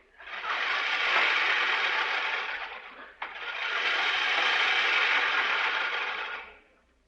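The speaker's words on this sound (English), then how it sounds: "That was the sound of John L. Lewis giving his eyebrows a crew cut for the summer" Comedic radio sound effect meant as eyebrows getting a crew cut for summer: two long, steady buzzing hisses like electric clippers, separated by a brief click and stop, loud and alone.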